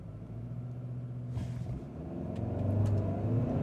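A 2025 Hyundai Santa Cruz XRT pickup in sport mode launches from a brake-torqued standstill, its engine roaring steadily and building in loudness as it pulls hard toward 60 mph, with the vehicle's rumble continuous throughout and no talk.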